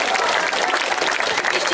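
A village gathering's audience gives a dense, steady burst of applause, loud and continuous for a couple of seconds with no talk over it.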